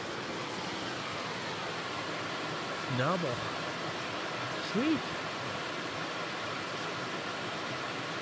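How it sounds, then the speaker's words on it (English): Waterfall at Split Rock State Park, a steady broadband rush of falling water filling the scene, continuous and fairly close, with a couple of brief spoken words over it. "Oh, you got a waterfall back here?"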